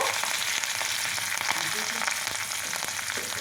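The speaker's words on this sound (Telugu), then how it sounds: "అందులో కొంచెం కరివేపాకు వేసుకొని ఇది మంచిగా ఫ్రై అయినాక" Steady, crackling sizzle of curry leaves and chillies frying in hot oil, close and continuous, with faint clinks of stirring and no voices.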